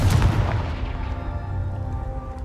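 A Confringo spell explosion in Hogwarts Legacy erupts at the start as a loud, deep booming blast, then rumbles and rolls away in a long, steady low roar that fills the rest of the moment.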